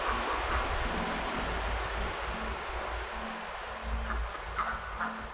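Waterfall roar in the video game Lost Ember, a steady broadband rushing wash heard continuously at moderate level, with faint tonal game music or ambient sounds layered over it.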